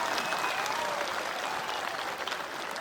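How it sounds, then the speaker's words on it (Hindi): Audience at a school annual day function clapping for the principal, Ajay sir, a dense, sustained round of applause at a steady level from start to finish, with a faint tone running through it. "एक जोरदार तालियां अजय सर के लिए"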